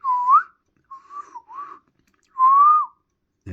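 A man whistles while testing a Superstar 3900EFT CB radio, giving a few short wavering notes with gaps between them, clear and close with no talking.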